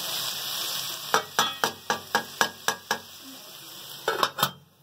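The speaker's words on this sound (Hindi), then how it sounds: "अब मैं चूल्हा बंद करूंगी और तड़का लगाऊंगी मक्खन का।" A soft sizzle of butter tempering frying in a pan for keema, punctuated by about ten sharp metallic taps of a utensil striking the pan in a loose rhythm.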